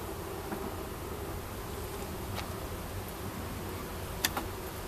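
A steady, dense hum of many honey bees buzzing nearby, continuous and even, with a few faint clicks and rustles.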